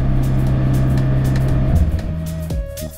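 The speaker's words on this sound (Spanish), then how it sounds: "El potente sonido del sistema de escape de cuatro tubos revela el carácter deportivo del coche" A deep, steady engine rumble through the quad-pipe exhaust of a 2025 BMW X3 M50, low droning note, close and loud, easing off toward the end as the pitch shifts.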